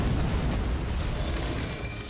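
A huge explosion in Elden Ring: Shadow of the Erdtree rumbles as a loud, sustained, close blast that slowly fades, with no talking.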